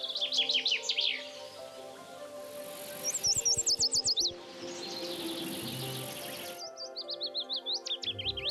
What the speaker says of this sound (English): The most renowned animal vocalists are the birds.